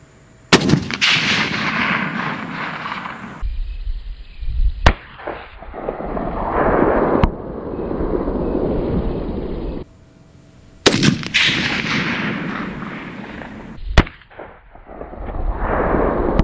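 A long-range rifle fires at a target 1000 meters away: two loud, sharp reports several seconds apart, each followed by a long rolling echo that slowly fades.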